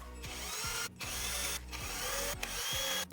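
A power drill bores pilot holes into wood for a 6.5-inch cube subwoofer box, whining loudly in several bursts separated by brief pauses as the motor stops and restarts; no talking.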